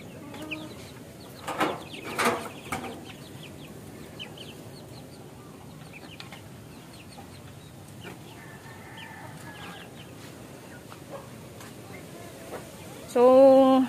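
Backyard chicks clucking and peeping as they feed, soft scattered calls with a few louder bursts early on and a clear run of cheeps at the end, close, with a voice talking intermittently.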